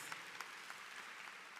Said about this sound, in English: Let's give Mr. and Miss Fort Valley another round of applause for those warm greetings.